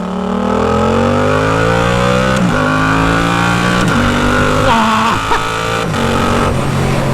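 A Yamaha R7 60th anniversary sport motorcycle with an MT-07 engine revs hard and close, its pitch climbing repeatedly and dropping briefly between gear shifts, loud and continuous.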